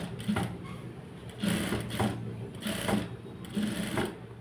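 A sewing machine stitching along piping and lining, with bursts of close, rapid stitching chatter separated by brief pauses, and no voice heard.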